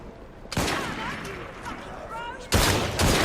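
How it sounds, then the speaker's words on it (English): Gunfire from weapons in the video game Assassin's Creed Syndicate breaks out as a loud volley, then falls to a rumbling, crackling background and returns as a second dense burst near the end, with game voices in the mix. "Fire your weapons!"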